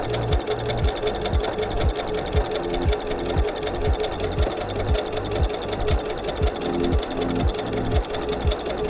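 A household sewing machine with a universal needle stitches fabric for an envelope book cozy, a rapid steady mechanical chatter running continuously with a rhythmic pulsing motor hum, close and prominent.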